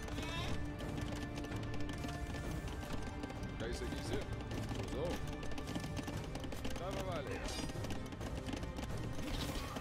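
Knights' horses in the video game Age of Empires II beat out a busy, continuous clatter of hooves, mixed with battle noise and heard under ongoing talk.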